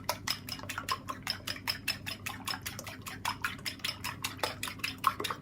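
A whisk beats eggs in a bowl for a quiche filling: rapid, even clinking strokes against the bowl, close and steady, with no talking.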